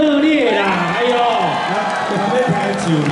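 A concert audience at a tattoo art expo in Kaohsiung cheering and screaming with crowd noise, loud and close, while a voice talks over it.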